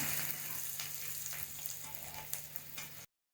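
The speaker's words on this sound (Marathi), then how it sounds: "आता कांदा घालूया कांदा छान ब्राउनिश होत आलेला आहे" Chopped onions fry in a pan with mustard seeds for misal, browning with a dense, steady sizzle heard close and alone, ending abruptly.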